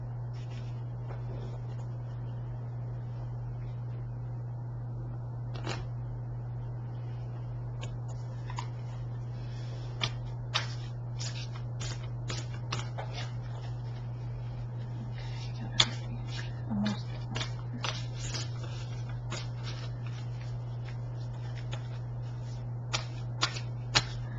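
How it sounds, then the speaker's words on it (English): Soft, intermittent riffling and tapping of large, stiff oracle cards being shuffled up close over a steady low hum, in irregular bursts. "These are hard to shuffle, they're so big for my hands."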